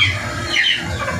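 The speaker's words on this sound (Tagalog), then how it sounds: "Nagalit yung inahin, no?" An angry mother hen squawks sharply and repeatedly at close range, harsh agitated cries over a low rustling background.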